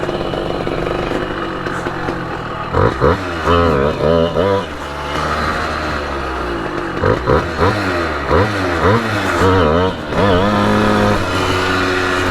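A Simson moped engine revs hard several times in quick bursts, then the throttle drops back to a rough idle, close and loud throughout.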